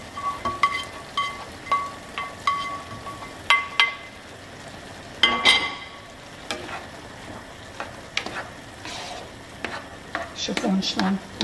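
Onion frying with cooked barley in a pan: soft sizzling under repeated scraping and clinking stirring strokes, close and moderately loud, no speech.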